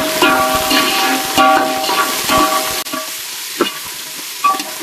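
Onions and green chillies sauté in oil for mushroom biryani, a close, fairly loud crackling sizzle with a run of quick spatula scrapes and taps.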